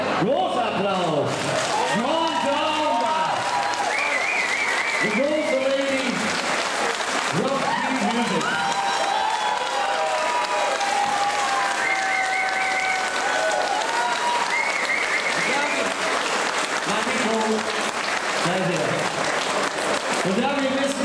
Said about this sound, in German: ja, großer Applaus!